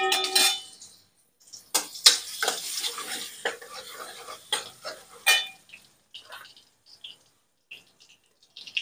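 Ground spice paste dropped into a ladle of hot oil for a Maharashtrian patvadi curry, with intermittent sizzling and a metal spoon stirring and scraping the pan in short bursts, near and clear.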